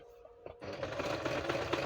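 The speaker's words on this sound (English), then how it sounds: "I'm so not used to sewing at this angle" Close by, a sewing machine stitches nature-themed journal cards made from book pages, starting up after a couple of soft clicks and then running in a quick, even mechanical chatter.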